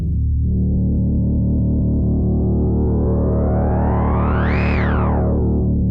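A Moog Sub 37 synthesizer plays a sustained note with two detuned oscillators and resonance, a loud buzzy tone with slow beating whose filter sweeps steadily brighter, peaks sharply, then drops back.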